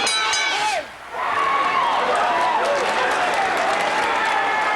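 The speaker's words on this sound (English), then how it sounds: "I would say the crowd is enjoying this" A large arena crowd at a 1984 kickboxing match cheering and shouting with a roar that briefly dips then surges back and holds loud, voices whooping and whistling over the din.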